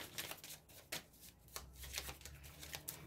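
Osho Zen tarot cards are handled and drawn, giving soft papery shuffles and several sharp card snaps at irregular intervals, close and quiet with no talking.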